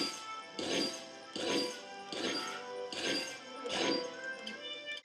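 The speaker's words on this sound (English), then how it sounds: "Shooting clay jars." Clay jars shot and smashed in a 3D video game: about five loud shattering crashes in a steady, evenly spaced rhythm, each burst ringing briefly.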